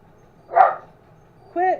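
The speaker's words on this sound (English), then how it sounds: "Quit barking." Two separate dog barks ring out indoors, a sharp close bark followed after a pause by a second, more tonal one, against a quiet background.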